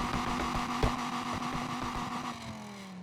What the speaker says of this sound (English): So here is the exhaust sound then.